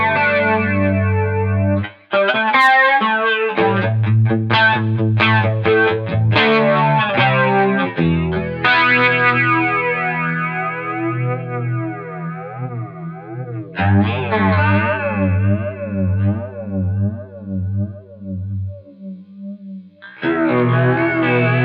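Electric guitar run through a Pearl flanger pedal, strummed chords and single notes with a sweeping, swooshing jet-like modulation and bright high end, played alone with brief pauses between phrases.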